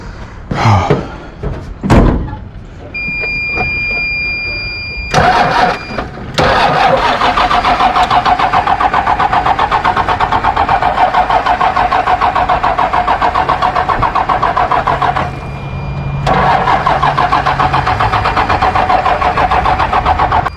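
A car engine cranks and catches several times beside a trailer outdoors, with a door slam early on, then settles into a steady, loud mid-pitched running note that holds to the end.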